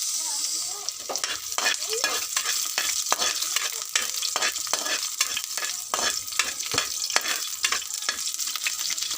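Garlic sautéing in hot oil, a close, crackling sizzle punctuated by repeated scraping stirs at an irregular rhythm, with no voices.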